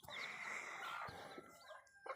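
A hen or young chicken clucks and calls up close, a drawn-out vocal cry followed by a few shorter clucks, faint and alone with no talking.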